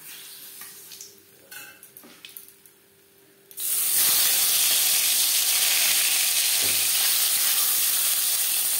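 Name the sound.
tilapia fish frying in oil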